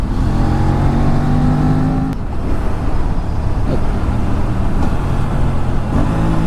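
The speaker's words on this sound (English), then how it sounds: "Downshifting this bike. Even on the stock exhaust, it pops and bangs." A KTM RC 457 motorcycle on its stock exhaust downshifts while riding, with a loud, close engine drone broken by a sharp crack and a few scattered pops and bangs.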